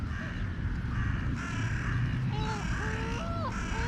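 A very big gull gives several loud, close wailing cries in a rising, repeated series, over a busy background of other birds.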